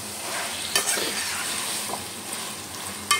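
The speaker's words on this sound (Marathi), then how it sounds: "तर पहिले चांगलं मटण फ्राय करून घ्यायचं आपण।" Mutton and onion frying together in a pan for a Malvani mutton masala, a continuous even sizzle with a few stirring clatters and a sharp scrape near the end.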